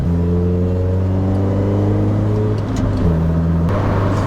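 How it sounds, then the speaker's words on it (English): Road and engine noise fill the cabin of a Mazda Miata convertible with thin metal at highway speed, a loud continuous drone with steady engine tones that shift pitch slightly as the car runs, with no voices. "when you're going highway speeds, the road noise is fairly intrusive"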